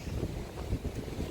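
Steady wind gusts buffet a microphone on Chesil Beach on the Dorset coast of southern England, a continuous low roar with no pauses and no voices.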